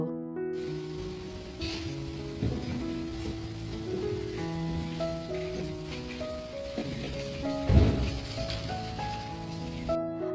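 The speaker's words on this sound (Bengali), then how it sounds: "একদম ঝুড়ো ঝুড়ো কুচি কুচি বরফ পড়ছে" Sleet patters steadily outdoors in Germany, a soft continuous hiss with music playing over it.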